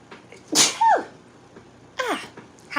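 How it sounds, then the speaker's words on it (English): A woman sneezes, a sharp explosive burst followed by a gasp and another quick sneeze-like exhale, close and clear over quiet indoor background. "I have to sneeze."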